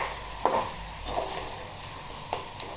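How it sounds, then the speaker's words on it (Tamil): Crab cooks in a pan with a faint, low sizzle, broken by a few soft scrapes of stirring spaced through the short stretch. "நண்டு கொஞ்சம் வெந்துக்கிட்டு இருக்கு"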